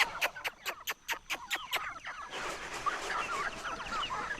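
Jungle fowl clucking close by, a steady series of about eight sharp, evenly spaced clucks followed by softer, busier rustling and chatter.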